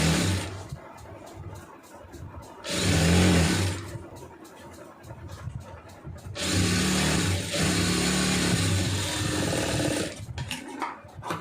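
A sewing machine runs in two long bursts of steady whirring stitch as canvas is sewn onto a churidar pant, with short pauses and faint handling noises between runs.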